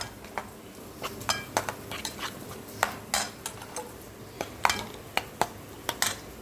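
A spoon stirs lentil dal in a metal pot after salt and turmeric go in, giving a series of irregular sharp clinks and scrapes against the pot, close and fairly loud, with no talking.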